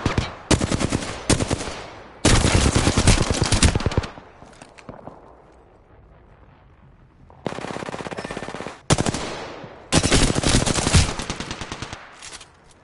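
Automatic gunfire in the video game Apex Legends comes in loud, close bursts of rapid shots, with a quieter lull in the middle before several more heavy volleys.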